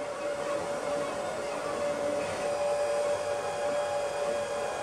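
An Alfawise U10 3D printer runs its first print, giving a steady mechanical whine with a sustained tonal hum from motors and fans, constant and fairly close with no talking.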